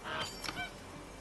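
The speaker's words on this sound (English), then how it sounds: "Just pet the goose. Pet the goose, Dave." Goose honking in a farming video game, a couple of bright, nasal honks packed into about a second, moderately loud over a steady background bed with no talk.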